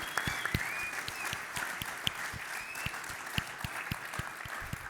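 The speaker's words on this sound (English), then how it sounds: "Let's please give a huge round of applause for our incredible panel tonight." Applause for a panel at a tech conference evening session, a moderate crowd clapping with distinct individual claps standing out, steady and unbroken, with a faint whistle or two above it.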